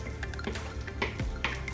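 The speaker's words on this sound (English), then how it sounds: "now we add our eggs, and you wanna just pour that over the broccoli and the sausage" Beaten eggs are poured over broccoli and sausage in a pan, giving wet splashes and drips, a few soft bursts of liquid close by, with a light clink of cookware.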